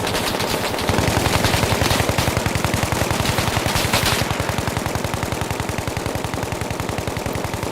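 Sustained rapid bursts of squad machine gun fire during tactical training, loud and close with a fast even rhythm of shots continuing throughout, no talk over it.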